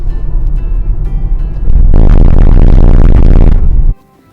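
Honda Jazz hatchback rolling over road rumble strips, a loud dense rhythmic drumming that rises over the steady cabin road noise for about two seconds, then drops away abruptly to quiet.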